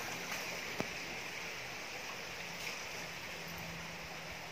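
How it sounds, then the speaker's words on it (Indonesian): A river stream flows below a garden spot in Nanggulan, Kulon Progo, a steady broadband rush of moving water at moderate distance with no voices. "Ini di bawahnya ada aliran sungai."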